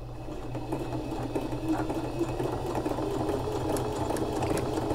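A sewing machine hums steadily and close while stitching a buttonhole, a continuous low mechanical whir with faint rattles and no pauses.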